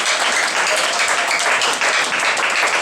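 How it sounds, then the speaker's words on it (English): A church congregation clapping together as an offering to God, a dense, loud, sustained applause filling the space without letup. "give me a clap offering to God"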